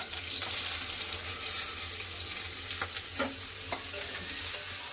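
Panch phoron, chopped green chilies and onion fry in mustard oil with bay leaves: a dense, continuous sizzling hiss, near and steady, with a few light spoon scrapes and taps toward the end.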